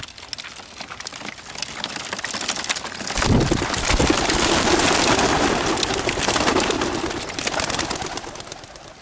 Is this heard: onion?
no